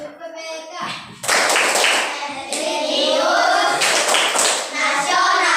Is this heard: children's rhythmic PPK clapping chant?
yes